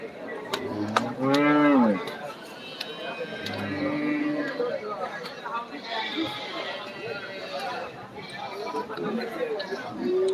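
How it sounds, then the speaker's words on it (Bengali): Dairy cattle at a busy village cattle market, with several loud, drawn-out moos up close, one near the start and another a few seconds later, over steady crowd chatter. "আজকে যেখানে যেগুলো সবই আপনার মাংসের দুধের গরু এগুলো দুধের গাবি দেখুন"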